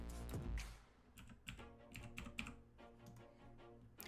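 Fast, steady typing on a computer keyboard, with irregular clusters of clicking keystrokes close to the microphone and no voices.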